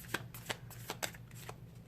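Tarot oracle cards being shuffled, several crisp riffling swipes in a steady rhythm, close and moderately loud with no voices.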